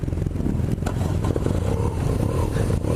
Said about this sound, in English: now I'll be test riding the BMW R9T Pure